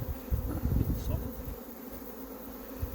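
Honey bees buzz at the hive while taking a pollen feed, a dense, close insect hum that swells briefly near the start and then holds as a steady drone, without speech.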